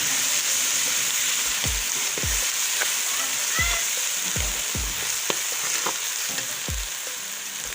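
Green chili paste sizzles and crackles steadily as it fries in a pan, with several sharp clicks and scrapes from stirring scattered through the continuous hiss.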